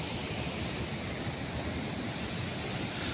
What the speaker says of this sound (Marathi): हा सर्वात मोठा इथं ज्याचं पाणी जोरात वाहत आहे